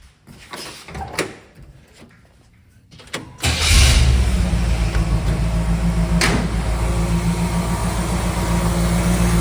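A 1970 GMC C2500 truck engine cranks briefly and catches, then settles into a loud, steady idle that rumbles on close by, preceded by a few clicks and rattles.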